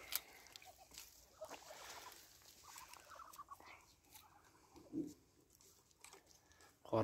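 Farm poultry, mother ducks among them near a pond, cluck and gobble now and then against quiet outdoor background noise, with a few louder calls and a sharp knock at the end.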